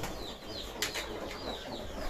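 Roller pigeons crowding at feeding time make a burst of wing flapping over a busy, close flurry of fluttering and rustling.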